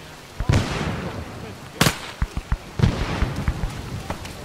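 Thrown grenade bursts during an outdoor airsoft Vietnam-themed game: a sharp loud blast near the start, a second big bang mid-clip, then scattered smaller pops and cracks as players call out.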